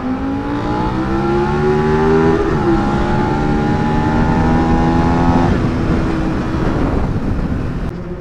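Suzuki SV650 motorcycle cruising on a highway, its engine droning loud and steady with a clear rising whine that dips at a gear change, then carries on under strong wind rush throughout.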